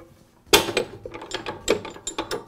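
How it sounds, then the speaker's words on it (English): A ratchet wrench clicks as bolts are tightened on the base clamp of a DeWALT chop saw, with a sharp metallic clack followed by a series of uneven ratcheting clicks close by and no speech. "It's still too loose, so I'll keep tightening."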